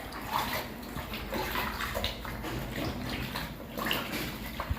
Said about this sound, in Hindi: सूती को कपड़े को हम अच्छी तरह पानी में भिगो देंगे।